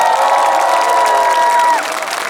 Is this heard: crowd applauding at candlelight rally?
yes